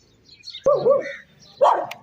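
A dog at a village mud house gate in rural Punjab barks at arriving visitors: two loud, close barks about a second apart, with quiet between them.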